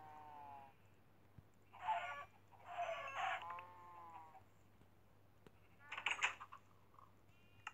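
Chickens cluck in a few short bursts over a steady low hum in a video game, faint and slightly artificial, with quiet clicking between the calls.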